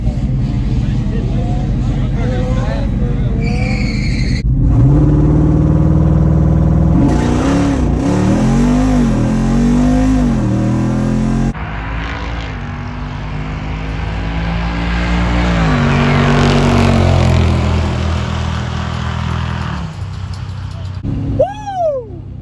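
A Jeep Wrangler Rubicon 392 on massive tires roars hard down a drag strip, engine climbing through repeated loud rising revs with shift breaks, close and dominant throughout.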